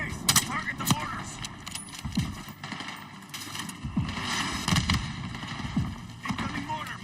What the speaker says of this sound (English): Incoming mortar, move.